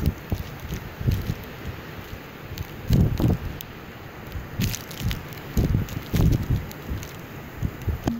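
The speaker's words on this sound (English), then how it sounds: "the wind blowing this snow here" Wind drives snow past a vehicle in a Duluth blizzard, a constant hiss with irregular louder gusts and rustling bursts, close to the microphone and with no voices.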